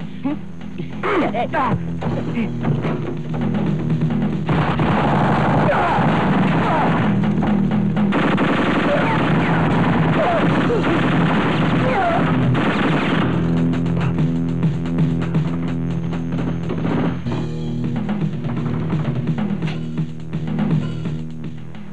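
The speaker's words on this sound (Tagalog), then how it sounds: "Anong putukan yun?" Sustained heavy gunfire in a Filipino action film, loud rapid bursts and volleys that keep going for over twenty seconds, with voices occasionally heard underneath.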